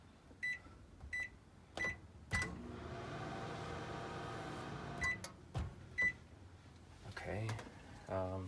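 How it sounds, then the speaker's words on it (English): A kitchen microwave oven is switched on for a test: several short beeps, then a steady running hum with a turntable rumble lasting a few seconds, followed by more beeps and a door clunk near the end. "Make sure that the microwave works"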